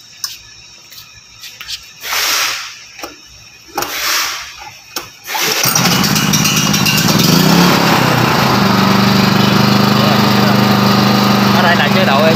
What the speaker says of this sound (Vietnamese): Bây giờ mình đóng e để mình khởi động máy